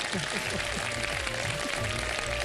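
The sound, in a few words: audience applause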